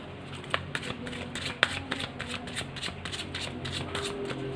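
Tarot-style cards are shuffled steadily by hand, close up, with rapid papery riffs and soft snaps in an even rhythm and no talking.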